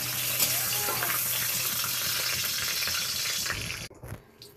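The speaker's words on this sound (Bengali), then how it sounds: "শুকনো লঙ্কা ফোড়ন দিয়ে দিলাম, তেজপাতা শুকনো লঙ্কা ফোড়নে দিলাম।" Dried red chilies and bay leaves sizzle loudly in hot oil, a dense, crackling hiss that runs steadily before cutting off abruptly near the end.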